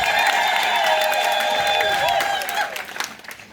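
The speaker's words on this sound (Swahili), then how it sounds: "Makofi kwa Mungu." A Catholic church congregation in Kilungu claps and celebrates the appointment of their bishop, a dense crowd applause overlaid with sustained high vocal tones that fade toward the end.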